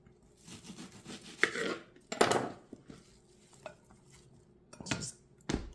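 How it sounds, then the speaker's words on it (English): A knife chops an onion into chunky pieces on a cutting board, producing a few separate knocks and scraping bursts, close up, with quiet gaps between strokes. "I'm cutting this onion into kind of like chunky sized pieces too"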